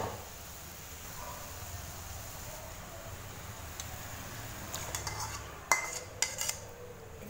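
Marinated chicken in yogurt, salt and chilli powder goes into a pan of tomato paste and is stirred, with faint scraping, then a few sharper clinks of a metal utensil against the pan near the end.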